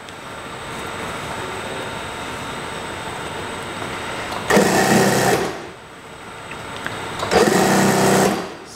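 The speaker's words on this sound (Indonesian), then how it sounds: "saya jahit bannya seperti ini terus sampai menemui jahitan yang kita bongkar tadi" Sewing machine stitching the waistband band of a pair of trousers, running in two loud bursts of rapid, steady whirring against a quiet room hum.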